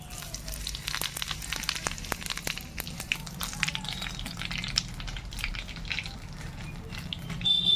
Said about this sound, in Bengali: মাছের তেলে ফোড়ন দেবো এখানে নিচে আমি শুকনো লঙ্কা আর গোটা জিরে একসঙ্গে মিশিয়ে দেবো